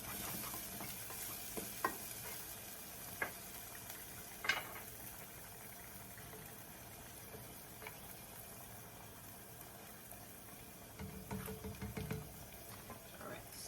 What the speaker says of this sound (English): Because they're thin, it doesn't take that long to fry at all.